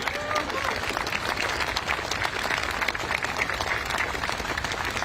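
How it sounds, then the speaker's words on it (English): A crowd at an outdoor Veterans Day ceremony at a memorial applauds a staff member, steady dense clapping throughout at an even level. "Can we get a big round of applause for Holly, who does everything around here?"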